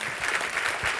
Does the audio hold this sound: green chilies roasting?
no